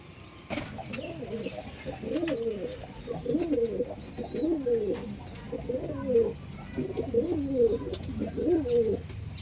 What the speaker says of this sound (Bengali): এই পায়রা দুটোকে ছেড়ে দেখাচ্ছি